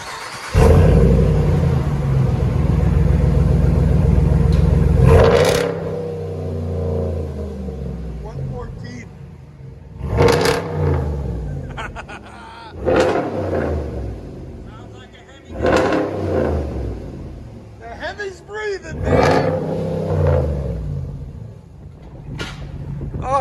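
Car exhaust fitted with 6-inch stainless steel tips, idling with a deep rumble, then a series of five or six sharp revs with pauses between, loud and near, with voices talking in between.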